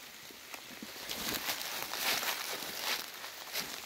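Light drizzle falling outdoors makes a faint, steady soft patter of scattered small drops, with no one talking.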